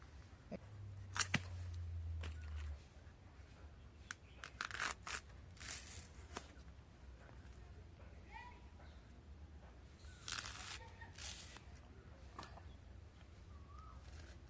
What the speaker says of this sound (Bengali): এবার মোচার যে বাকি অংশটা আমি কেটে নেবো